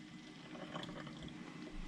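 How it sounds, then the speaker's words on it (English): Tap water runs steadily into a plastic spray bottle being filled, a quiet continuous splashing and trickling close by with no talking. "You're going to fill it up the rest of the way with water."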